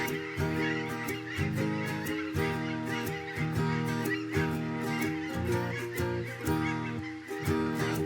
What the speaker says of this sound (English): Those geese are noisy.